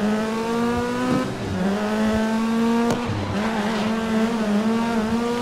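Race car engine from the GRID video game, a Super Hatch on a San Francisco circuit, droning loudly and steadily with rising and falling revs through gear shifts, alone with no talk.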